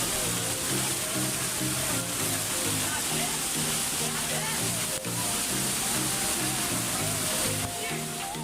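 Umbrella Waterfall at Sajikot near Havelian produces a steady, loud rush of falling water that fills the whole stretch, with a tonal melody playing over it.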